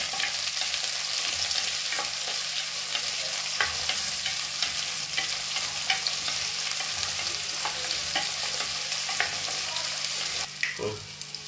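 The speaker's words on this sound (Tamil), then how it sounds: "வெங்காயம், பச்சை மிளகா இது கொஞ்சம் நல்லா வதக்குங்க." Onions and green chilies sizzle in a hot pan with a steady frying hiss, punctuated by scraping stirs of a spatula.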